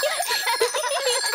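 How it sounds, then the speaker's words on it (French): A cartoon bicycle bell rings in a quick run of bright, metallic trills, loud and close, repeating rapidly for just over a second with no talking. "Pouvez-vous nous montrer que vous savez faire marcher votre sonnette?"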